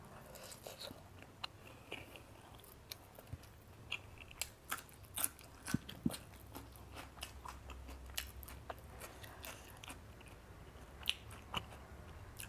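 Someone eats Isan (northeastern Thai) sausage with chillies, biting and chewing close up. Soft crunchy bites and chewing repeat irregularly at a quiet level, with no talking.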